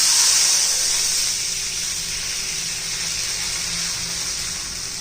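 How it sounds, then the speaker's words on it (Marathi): A glass of water poured into a hot pan of mustard seeds, cumin and red chilli powder, giving a steady close hiss and rush of water that fades slightly after the first second and carries on evenly. "मी 1 ग्लास पाणी घातलेलं आहे."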